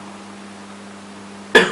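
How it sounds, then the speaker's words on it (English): A steady low electrical hum, then a patient gives one sharp cough on request during a clinical exam at the very end, close and loud. "I'll ask him now to cough to see whether the patient have bovine cough or not."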